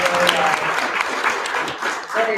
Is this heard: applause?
yes